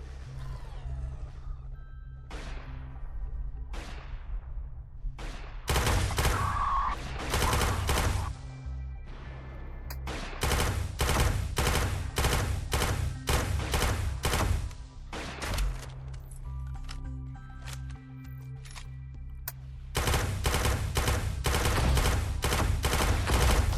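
Bursts of rapid gunfire from a weapon in the VR shooter Quantum Threshold, loud and close, with sustained automatic volleys separated by brief pauses and some quieter single shots early on.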